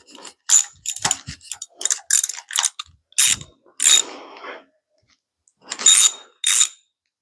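A socket ratchet clicks in sharp bursts while adjusting the rocker arms on a big block Chevy engine, loud and close, with irregular runs of pawl ratcheting separated by brief pauses.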